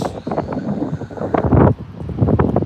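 Wind gusting across an outdoor soccer field during a boys' high school match, a rough, blustery rumble buffeting the microphone in uneven surges.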